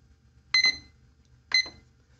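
A digital timer chirps twice as it is set for a figure sketching session, two short bright electronic beeps about a second apart, close and clear over a quiet room with no talk.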